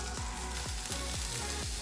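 Spam fries in a pan with a steady close sizzle, punctuated by several regular scraping stirs as pieces are separated and moved.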